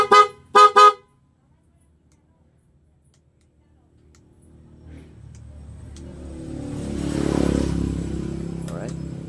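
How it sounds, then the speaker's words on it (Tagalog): A Honda ADV 160 motorcycle gives a few sharp, loud horn toots in quick succession, followed by quiet and then an engine swelling up in a revving rumble that fades slightly. "Horn."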